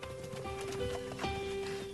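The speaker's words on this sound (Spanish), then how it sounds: "la gente todavía monta a caballo" Horse hooves clip-clopping in a rural farming area with oil derricks, a few soft irregular hoof knocks heard faintly over a steady tonal background.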